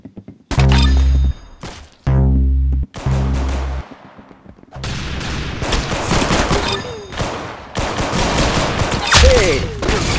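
Video game gunfire ends in a headshot: heavy booming shots with ringing tails, then rapid bursts and impacts amid chaotic action, with voices in the background.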